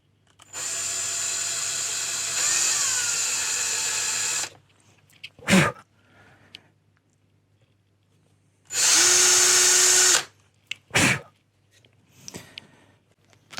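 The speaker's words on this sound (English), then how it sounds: "it's time to drill some extra room for the nipples." A power drill bores holes in an electric guitar headstock from a Stratocaster kit to fit locking tuners, two sustained whining bursts with a pitch shift under load, separated by sharp knocks and quiet handling.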